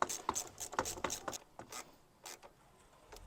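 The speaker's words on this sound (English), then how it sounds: "We're going to tighten that up with a 7mm." Rapid clicking bursts from a ratchet fitted with a 7mm socket, tightening a hose clamp during a diesel Ford Focus Mk3 engine service, close and crisp in quick repeated strokes before trailing off into softer handling noises.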